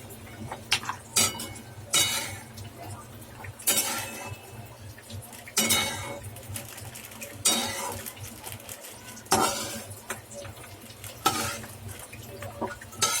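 Walnuts roasting in a pan with a little ghee are stirred in regular strokes, each scrape and clink of the spoon against the pan rising every couple of seconds over a faint, steady sizzle, close and without talk.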